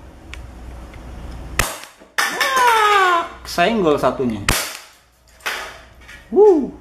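A cheap airsoft gun fires at cans, a few sharp close pops with clattering hits, mixed with people talking and a voice between shots.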